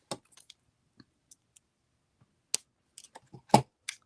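Jewelry wire cutters trimming excess wire from a beaded link, heard as a few sharp, close snips and clicks scattered over four seconds against near silence, with one louder snap toward the end.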